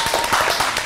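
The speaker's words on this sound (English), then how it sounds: "Round of applause." A brief burst of hand clapping in a podcast studio, a few quick dense claps close to the mic, lasting under a second with no talk over it.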